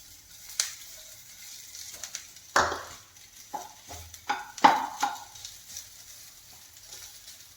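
Mashed potato being stirred into frying onions for masala dosa filling, with sizzling and scraping spoon strokes against the pan, a few sharper clanks standing out over the steady fry.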